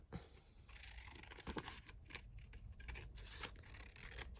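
Scissors cutting through book pages and paper scraps up close, with quiet snips and papery rustles and crinkles repeating over a few seconds, faint and without talk.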